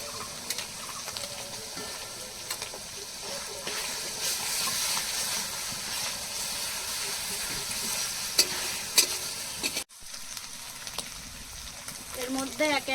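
Ginger and garlic paste frying with browned onions hisses and sizzles steadily close by, with stirring scrapes and a brief dropout near the end.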